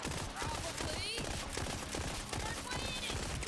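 Burst fire from the Whiskey Foxtrot weapon in Borderlands 4, a loud, continuous clatter of rapid shots mixed with game effects, without a break.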